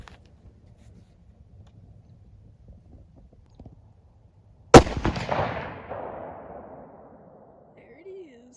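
A single sharp rifle gunshot cracks out at a hunting spot after a deer blind was damaged by a storm, then rolls away in a long, fading echo. Faint low voices come before it.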